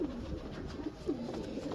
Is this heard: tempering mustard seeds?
no